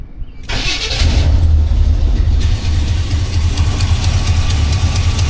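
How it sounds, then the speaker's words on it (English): A cammed Chevrolet C10 squarebody with a Holley carburetor and an exhaust leak cranks over from a cold start, then settles into a loud, close, steady lumpy idle that runs without pause and with no talking. "That exhaust leak came back."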